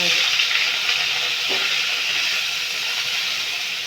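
Paneer frying in oil, a steady, close, loud sizzling hiss that holds constant throughout, with a single faint knock partway through.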